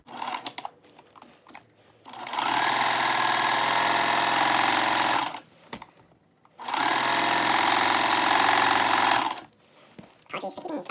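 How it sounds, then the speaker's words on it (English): Sewing machine stitching the crotch seam of Glebe trousers, running in two long steady bursts of a few seconds each, loud and close, with short pauses and light handling noise between them. "I'm just going to go ahead and sew this crotch seam"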